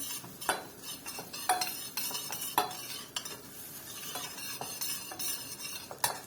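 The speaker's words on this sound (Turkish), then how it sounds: "Şöyle güzelce nanemizi kavuralım." Mint and red pepper sautéed in a pan for Kastamonu Ecevit soup, with a soft sizzle under repeated scraping stirs and light metallic clinks of a utensil against the pan.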